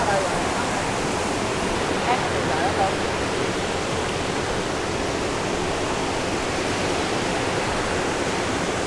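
Water from the Thanh Long mountain stream on Núi Cấm, a seasonal stream that flows only in the rainy season, rushes in a steady, loud, broadband wash, with a brief voice faintly audible beneath it.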